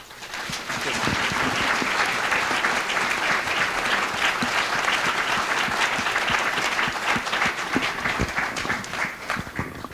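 An audience in a client meeting applauds steadily for about ten seconds, a full, even round of clapping that fades slightly at the end.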